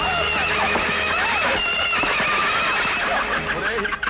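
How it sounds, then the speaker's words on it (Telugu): A horse neighs and whinnies loudly while galloping hooves run steadily underneath, set in a dense, busy mix with voices present. "ఇదేమిట్రా గుర్రం పిచ్చెక్కినట్టు అలా పరిగెడుతోంది"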